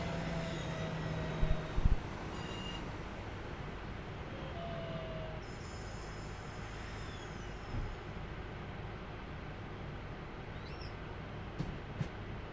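A passenger train on the Glossop to Manchester line rolls along with a steady low rumble of wheels on track, occasional squeals and clanks, and a brief higher-pitched whine midway, heard from inside the carriage without talk.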